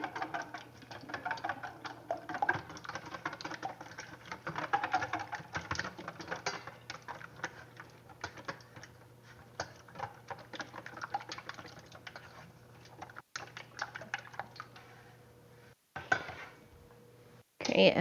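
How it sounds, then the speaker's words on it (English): Quiet, steady clinking of a whisk against a bowl runs throughout as an egg is beaten together with ingredients for keto donut batter, close but soft. "I'm going to whisk these together."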